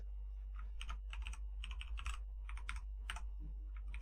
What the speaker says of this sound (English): I'm typing my password wrong.